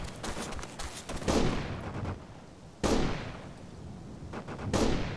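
Gunfire in Operation Flashpoint: Dragon Rising, loud booming shots at intervals of roughly one and a half seconds, each with a long rolling echo, over a background rattle of distant fire.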